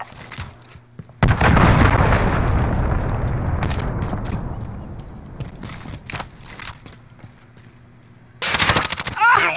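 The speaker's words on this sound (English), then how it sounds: "Enemy cruise missile incoming." Cruise missile strike in a Modern Warfare hardcore free-for-all match, a loud, close explosion with a long rumbling decay, followed later by sharp bursts of gunfire, with game voices talking in between.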